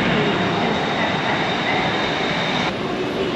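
Steady rumble and rush of a Bangkok Skytrain metro train in motion, a continuous loud roar with faint rail hiss and no voices.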